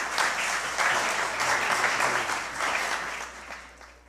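An audience at the Prêmio Chico Mendes award ceremony applauds, a full, continuous round of clapping that holds steady and then tapers off slightly at the end.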